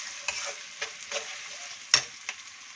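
Minced chicken frying in a pan sizzles steadily while a spoon stirs it, giving several sharp scraping strokes at irregular intervals.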